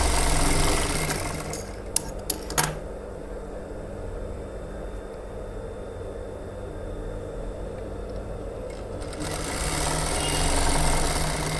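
An electric sewing machine stitching fabric, a steady mechanical whir running through most of the stretch at moderate level, with a few sharp clicks early on and no talking.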